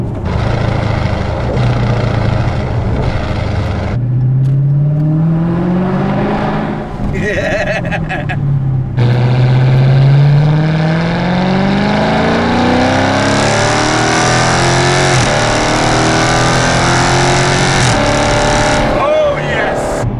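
A 2016 Dodge Challenger ScatPack with mid-muffler deletes revs its engine hard, a loud, deep rumbling roar that climbs and falls over several throttle blips. A voice is heard alongside the engine.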